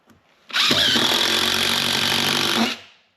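A power driver sinking screws into plywood, a loud whirring burst of about two seconds that stops abruptly, with a short quiet lead-in before it.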